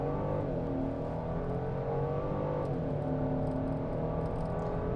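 Cabin of a 2024 Genesis GV70 3.5T under hard acceleration, with a steady loud engine drone and a rising tone that briefly dips at a gear change before climbing again. No one speaks.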